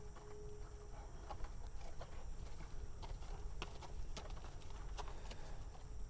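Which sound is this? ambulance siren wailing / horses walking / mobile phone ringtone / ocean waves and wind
horses walking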